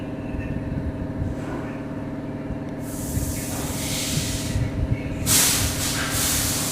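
Hot water poured into a pan of cooking mutton curry with potatoes bursts into loud hissing and sizzling twice, over a steady low background hum.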